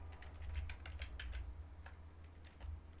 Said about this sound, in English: I don't know why I'm typing up YouTube.